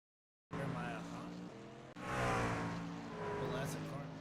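Racing trucks in an iRacing truck series race at Chicago roar past one after another, loud engine drones rising and swelling, with a commentator talking over them.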